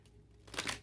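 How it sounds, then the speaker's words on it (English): Tarot cards are shuffled in one quick, soft riffle burst lasting under a second, heard close and alone in a quiet room. "Let me shuffle one more time before I get that last one."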